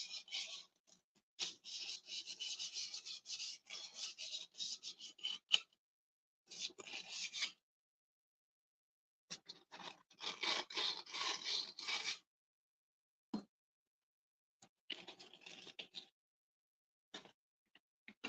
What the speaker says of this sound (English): Normally I wouldn't sand over the top of where I'm going to work